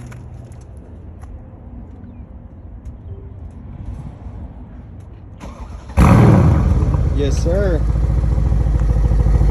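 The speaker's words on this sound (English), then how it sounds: "That V8's purring." A Mercedes C63S AMG V8, a car with hidden frame damage, cranks and fires after a quiet start, then settles into a loud, throbby idle close by, with a brief spoken reply over it.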